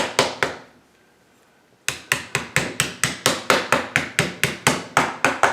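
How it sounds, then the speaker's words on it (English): Hammer knocking a pin into a PTR 9ct rifle during reassembly: three sharp strikes, a short pause, then a long, fast, regular run of close, loud metallic taps. "Take my hammer."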